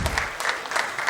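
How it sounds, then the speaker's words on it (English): Audience at a maritime women's event clapping, a short burst of dense, close applause from a seated crowd. "we could hear a round of applause again for them"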